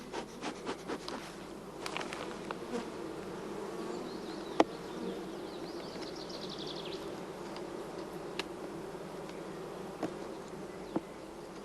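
Honeybees of a queen-right colony hum in a faint, steady drone, with small taps and scrapes from the hive popping up now and then.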